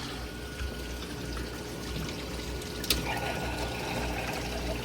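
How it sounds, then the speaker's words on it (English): Water pours steadily from a fish tank into a container during a water change in a fishroom, a continuous close trickle and splash with no talking. "That's about a good amount of water that's coming out."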